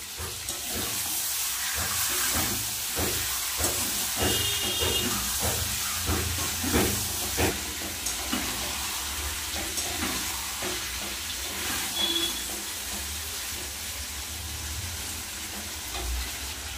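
Whole garlic cloves fry in a pan for a chicken kosha curry, a steady moderate sizzle and hiss running continuously with occasional faint stirring clicks.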